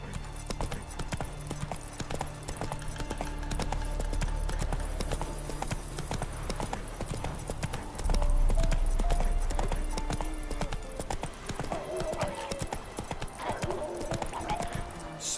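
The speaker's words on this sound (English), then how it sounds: "Whoa there, Roach" Horse hooves clip-clop in The Witcher 3: Wild Hunt – Blood and Wine, a steady galloping rhythm under a dense game soundscape, swelling louder near the middle, with occasional snorts and faint voice-like sounds later on.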